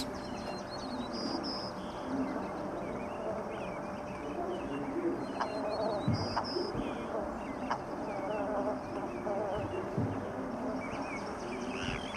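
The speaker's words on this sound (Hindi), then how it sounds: "मौसम बहार में परिंदों के चहचहाने की आवाज़ आ रही है" Outdoor spring ambience in Alaska full of small bird chirps and calls scattered throughout, over a steady buzzing insect drone, with a few soft knocks nearby.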